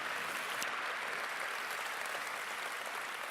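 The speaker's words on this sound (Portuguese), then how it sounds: "Dá mais um aplauso a Jesus, porque Ele merece." A church congregation applauding during a sermon, dense steady clapping from many hands throughout, fairly distant and even, with no break.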